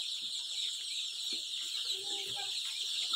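Small golden Misri hen chicks cheeping in a steady chorus of thin, high peeps that runs throughout, with occasional light handling noise beneath.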